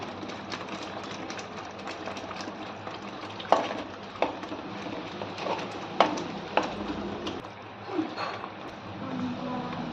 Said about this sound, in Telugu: మాడకుండా కలుపుకోవాలి మళ్ళీ, ఎందుకంటే అడుగంటుతుంది